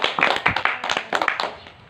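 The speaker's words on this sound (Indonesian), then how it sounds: "Berikan aplaus kepada teman kalian" Classmates in an audience clap for a class presentation, a brief burst of scattered, uneven handclaps that peaks and then fades out after a couple of seconds.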